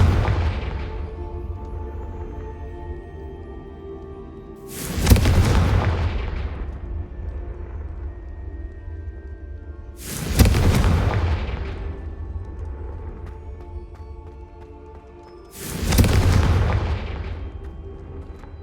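Three heavy booming blasts from the Confringo fire spell in Hogwarts Legacy, spaced about five seconds apart, each a loud sharp burst that rolls off into a fading rumble over a steady low background hum.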